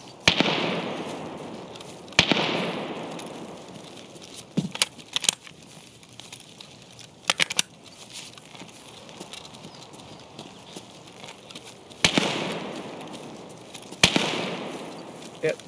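Gunfire in the Escape from Tarkov video game: a handful of sharp, loud shots spaced irregularly, some in quick pairs, each trailing a short echo, with quieter crackles and a voice talking between them.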